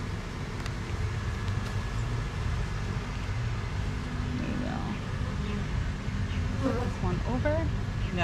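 Honey bees hum continuously around a backyard hive, a steady close buzz with occasional sharper passes of individual bees, faint traffic rumbling in the distance.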